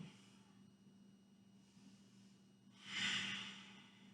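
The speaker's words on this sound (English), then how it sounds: "taking a big breath in. Exhaling as we come down." A deep yogic breath during a flowing yoga sequence, soft steady airflow rising into a louder, breathy exhale near the end, close and alone with no talking.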